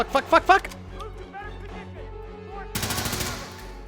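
Several sharp gunshots ring out in quick succession in the Hitman 3 video game, followed after a pause by a rapid burst of shots, with someone talking over the ambient game sounds in between.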